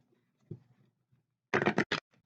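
Tarot cards are shuffled in a couple of quick riffles, two short crisp bursts of papery flicking close by with a light tap before them, otherwise quiet.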